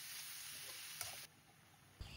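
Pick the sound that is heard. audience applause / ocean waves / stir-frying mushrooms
stir-frying mushrooms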